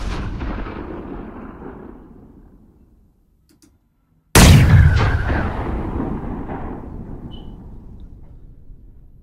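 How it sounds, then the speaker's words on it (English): Designed cannon fire effects: a heavy booming shot decays into a long rumbling tail, falls silent, then a second louder blast strikes and rolls off slowly, close and alone. "I made a variety of different cannon sounds, different variations"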